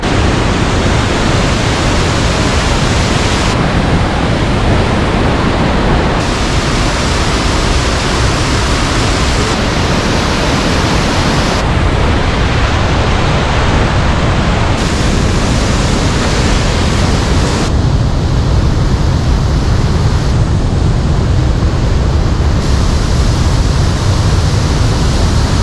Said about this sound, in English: You can hear it thundering down from up above